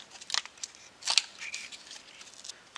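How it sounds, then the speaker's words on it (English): A knife cutting away material from a car tweeter housing during a Subaru Outback speaker upgrade, a few short, close scraping snips in quick bursts, faint and alone. "So grab a knife, just cut it all off."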